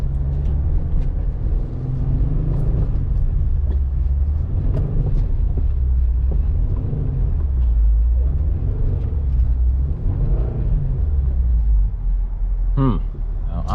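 A car circles steadily while braking, its engine and road rumble continuous and loud throughout, with a brief sharper burst near the end.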